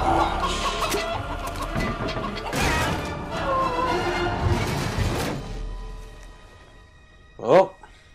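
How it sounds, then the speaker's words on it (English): A chicken clucking in the video game Fable 3 amid crashing, smashing game effects, ending with a short loud squawk; someone talks over parts of it. "Chicken has definitely seen better days"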